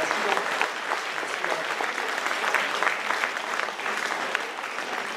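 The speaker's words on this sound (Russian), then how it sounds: "Аплодисменты великому Богу." A congregation at a Messianic Jewish community service in Kyiv applauding: sustained, dense clapping from many hands filling the room at an even level throughout.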